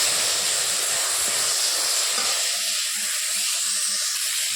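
Dried red chillies and bay leaves sizzle in hot oil in a home kitchen, a steady loud hiss filling the clip with faint low crackles and pops toward the end, no voices.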